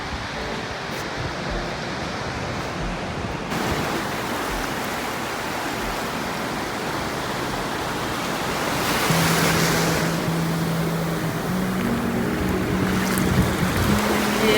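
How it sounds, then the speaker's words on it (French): Ocean surf rolling onto the shore at Ogunquit, Maine, a steady broad wash of waves that swells a little louder partway through, with a faint low tone underneath. "On arrive à la mer, on entend la mer,"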